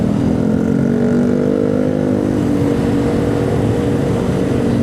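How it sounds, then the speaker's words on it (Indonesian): A loud motorbike engine roars on a city street at night in Bekasi, a steady close droning rumble with shifting pitch as the bike rides along. "Ini ada suara motor kencang banget"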